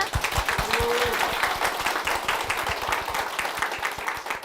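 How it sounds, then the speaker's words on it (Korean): A church congregation claps to welcome an elder forward, a lively, fairly close burst of many hands beating steadily and evenly with no voices over it. "장정자 장로님 박수로 모시겠습니다"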